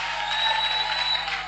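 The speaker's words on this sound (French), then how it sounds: "Acclame très fort pour la gloire de Dieu." A church congregation at a prophetic worship service applauds and cheers, a dense, continuous wash of clapping and crowd noise with no breaks.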